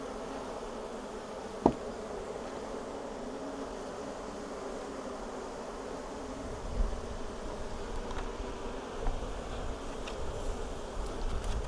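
Honey bees swarm around an open hive with a steady, low buzzing drone. A single sharp click sounds near the start, and the buzz grows slightly busier toward the end, with no voices.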